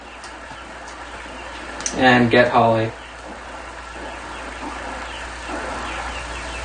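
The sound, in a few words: ducks in the video game Wii Sports Resort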